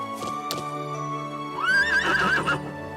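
A horse in the video game Trails of Cold Steel 2 gives a clear, loud whinny over steady game music, following a few soft hoof clops.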